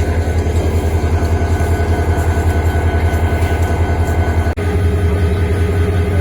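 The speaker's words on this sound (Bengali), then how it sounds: "এটা হইলো জামালপুর এক্সপ্রেস" The Jamalpur Express in Bangladesh rolls past near Mymensingh with a loud, close, continuous low rumble and rhythmic clatter of wagons, with one brief dropout near the end.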